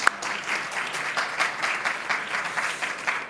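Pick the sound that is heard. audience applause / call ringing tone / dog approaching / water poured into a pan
audience applause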